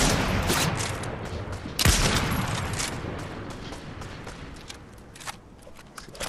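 Gunfire from Fortnite sounds as a dense burst of sharp cracks, with one loud blast near the two-second mark, then trails into quieter scattered shots and footsteps at mid-distance.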